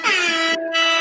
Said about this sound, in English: So I think those deserve some air horns.